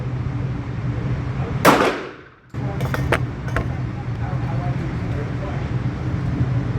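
A single loud shot rings out from a stainless Bul Armory SAS II Tac Commander .45 ACP pistol at an outdoor range, a sharp crack with a brief decaying echo, followed by a few lighter clicks over steady background rumble.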